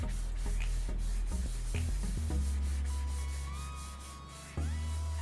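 Hand firmly rubbing down cardstock on a craft project, a close, continuous dry scraping and rubbing with a few soft knocks, steady and fairly loud throughout with no talk.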